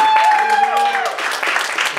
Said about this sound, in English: Give everybody that put this together a round of applause.